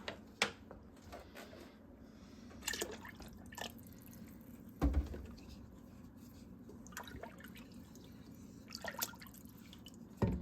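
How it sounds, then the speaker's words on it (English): Whole milk is poured into a pot of chicken wild rice soup, giving quiet, intermittent liquid splashes and drips with a few soft clinks against low kitchen background noise. "So we're just adding some of that milk in there"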